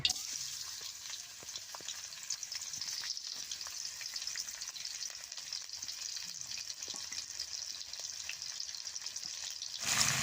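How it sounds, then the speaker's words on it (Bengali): Onion, ginger, garlic and green chili frying in hot oil, a steady close sizzle with scattered pops and crackles running throughout, alone without talk. "পেঁয়াজ আদা রসুন কাঁচামরিচ এইটা তেলের মধ্যে দিয়ে দিব।"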